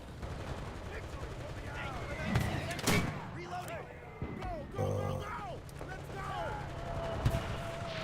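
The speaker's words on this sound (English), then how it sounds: "I have to say this American mortar is a lot more on range than the old, or than the Japanese mortars." Distant booms and gunfire from an American mortar and battle in the World War II shooter game Enlisted, several dull thumps over a busy background of game noise, with someone talking throughout.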